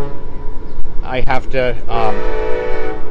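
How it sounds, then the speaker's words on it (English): A train passes with a loud horn blast sounding for about a second near the middle, over a steady rumble, while a person talks briefly. "that's the train. There's a train I didn't show you."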